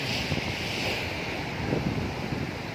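Surf washing onto the beach at Tanjung Binuangeun, a continuous wash of breaking waves under gusty wind buffeting the microphone, with no voices.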